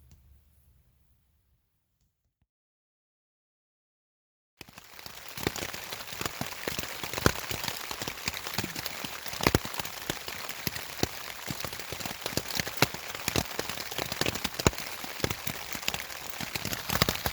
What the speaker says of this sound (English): It's been raining most of the morning.